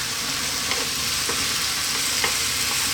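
Chicken chow mein stir-frying in a pan with soy and oyster sauce, a dense continuous sizzle with faint scraping stirs at intervals and no talking.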